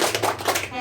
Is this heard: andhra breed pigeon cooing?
no